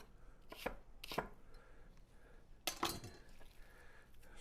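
A knife chops through onion on a cutting board in quarter-inch slices, giving three crisp, separate board strikes at close range with quiet pauses between them.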